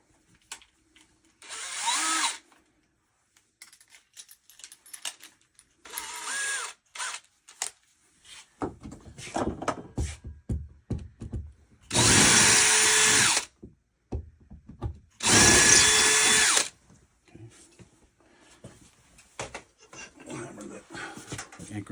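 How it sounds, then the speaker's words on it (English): A power drill bores pilot holes into a wall to mount a plumbing valve during a PEX pipe leak repair, whirring in four short close bursts, the last two longer and louder, between quieter handling noises. "So make some pilot holes. Okay. Put the real drill in."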